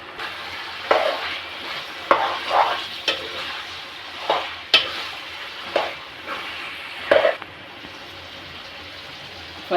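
Chicken pieces are stirred into a masala curry and fry in the pan, giving a soft sizzle broken by a series of scraping stirring strokes at close range.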